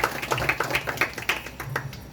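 An audience claps at a live Marathi double-bari bhajan performance, with a quick patter of distinct hand claps that sounds fairly close and moderate in volume, as if from a modest crowd.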